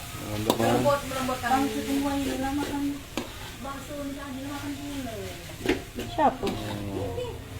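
Noodles being stir-fried with sautéed seasoning and a splash of water in a pan, with a soft sizzle and scraping stirs running under women's conversation throughout.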